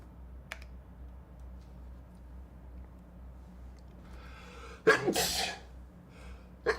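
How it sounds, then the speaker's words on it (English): Two sharp, loud sneezes in quick succession from a person working at a computer in a quiet room, with faint keyboard clicks before them. "Oh snap, double sneeze"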